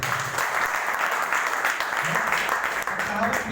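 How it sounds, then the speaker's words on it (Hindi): Loud, dense clapping from a classroom audience cheering for Bihar, a steady close burst of applause with faint voices underneath. "तो एक बार पूरे बिहार के लिए जोरदार ताली"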